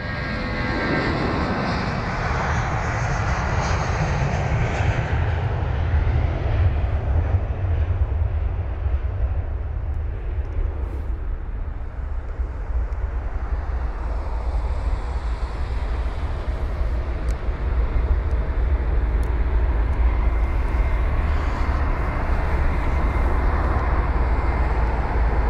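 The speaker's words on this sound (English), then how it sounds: "it is a British Airways A321neo, that I can confirm" A British Airways Airbus A321neo takes off at London Heathrow, its engines making a loud, sustained roar that holds steady and then swells slightly as the jet climbs. No one speaks.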